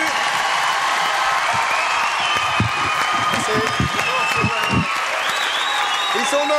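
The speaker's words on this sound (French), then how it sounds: "Applaudissements pour Jean-Jacques Benex." Audience on a French TV talk show applauds Jean-Jacques Beineix, loud sustained clapping with some cheers and whoops, while voices talk over the noise.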